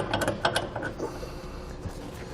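A ratchet tightens a flange nut on a fifth wheel frame bracket of a 2018 GMC Sierra 2500 during a Curt custom hitch install: quick bursts of close metallic clicking that fade into softer mechanical rattles.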